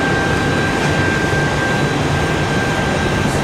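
A Delta CRJ jet departs the runway at Raleigh-Durham International on a windy day. A loud, steady roar of jet engine noise fills the whole stretch.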